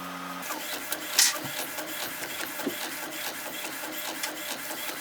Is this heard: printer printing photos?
yes